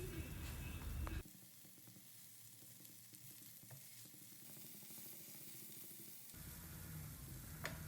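Paneer cubes and methi leaves fry in a pan, a soft, even sizzle that continues throughout at low volume.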